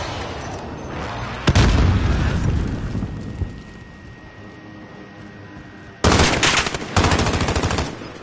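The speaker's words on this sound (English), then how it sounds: "They're shooting." Bursts of automatic gunfire in the Call of Duty video game, a loud sustained volley, a quieter stretch with a faint tone, then another heavy rapid burst near the end, with no talk.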